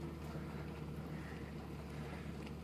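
A V8-swapped Hyundai Genesis sedan cruises along, its low engine drone and road rumble steady beneath a wash of wind noise, with no speech.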